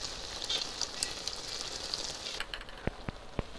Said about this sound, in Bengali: এবার এটা এইভাবে ভালো করে মশলাগুলো কষিয়ে নেব